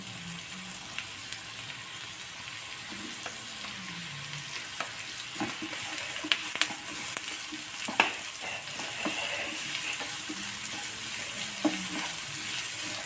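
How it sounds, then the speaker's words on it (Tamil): Two onions fry in hot oil for samosa filling, a close, steady sizzle with scattered sharp clicks and scrapes of a spoon stirring, louder bursts around the middle. "ரெண்டு வெங்காயம் நல்லா ஃப்ரை பண்ணிக்குவோம்."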